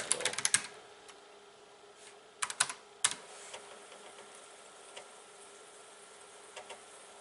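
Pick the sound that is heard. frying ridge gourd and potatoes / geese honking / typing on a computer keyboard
typing on a computer keyboard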